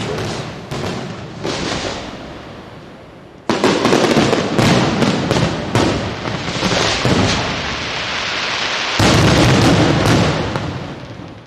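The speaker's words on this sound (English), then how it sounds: "The evening ended with a surprise firework display" A surprise evening fireworks display at a 2006 Salzburg car-club gathering, with loud, dense bursts and booming thuds that crackle in rapid clusters and swell into a near-continuous barrage.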